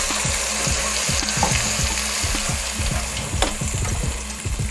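Spice paste hits hot oil in a pan while cooking mutton korma, giving a loud, steady frying sizzle with repeated low scraping knocks of stirring throughout, no voices.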